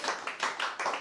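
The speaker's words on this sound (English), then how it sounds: "Let's clap for God." Church congregation clapping for God in roughly three rhythmic bursts of applause, close and fairly loud, with no talk.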